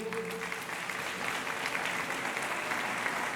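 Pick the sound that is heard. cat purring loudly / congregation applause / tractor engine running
congregation applause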